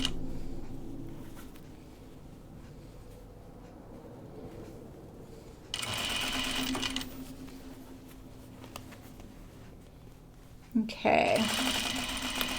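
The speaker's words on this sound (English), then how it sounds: "Just sew right over my pins when they're perpendicular like that." A sewing machine stitching straight over perpendicular pins on a pajama top, heard in two close, steady whirring runs separated by quieter handling, with a few words spoken between them.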